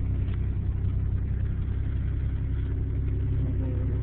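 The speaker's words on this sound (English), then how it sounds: "It's not the quietest truck. They didn't put a muffler on it." A 1989 Toyota 4Runner 4x4 V6 truck runs with no muffler, its exhaust giving a steady, loud, low rumbling drone close by, with a slight rise in revs toward the end and no voices.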